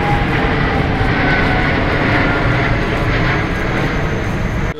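An airplane passes overhead in Mumbai near Juhu, a loud, steady broadband engine roar that holds at the same level for the full few seconds with no voices over it.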